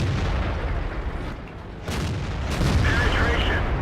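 Tank cannon shot in World of Tanks, a heavy booming report with a broad rumbling tail, followed by a second burst of impact and crackling debris, loud and close amid continuous game noise.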